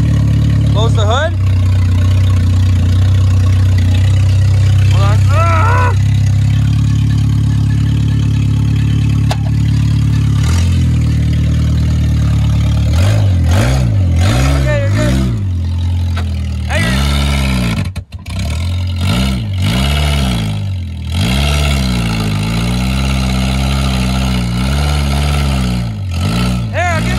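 A 2020 Ford F150 Platinum idles while warming up in winter, a loud steady engine drone that later wavers and rises and falls in pitch, with people talking over it.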